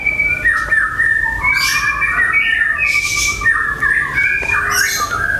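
A caged songbird chirps and whistles loudly and close by, with rapid overlapping tweets and trills running continuously and no talking.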